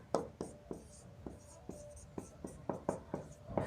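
Chalk or marker strokes on a board as a reaction title is written, a quick series of about a dozen sharp taps and scratches in an uneven rhythm, close and fairly quiet, with no speech.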